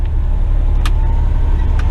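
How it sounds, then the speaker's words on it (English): A Western Star dump truck's diesel engine idles up close with a steady heavy low rumble, cooling down just before shutdown, with a couple of faint clicks on top. "I just cooled down the engine before shutting down."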